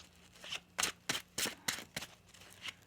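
Tarot cards being shuffled during a weekly tarot reading, with a run of about seven quick riffling bursts in a soft, close, even rhythm and no talking.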